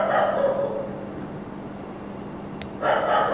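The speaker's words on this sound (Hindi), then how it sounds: "अब तो एक ही भौंक रहा है यार।" A single dog barks in short yips, loud at the start and again near the end, with a quieter stretch of faint background between them.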